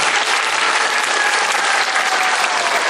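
Sustained, dense applause from a large audience welcoming a lecturer to the stage for a parenting talk, steady and loud throughout with no pauses.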